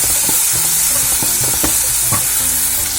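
Roadside-style mushroom fry masala frying in oil, a loud, close, unbroken hiss of sizzling with irregular spatula knocks and scrapes as it is stirred, no voices.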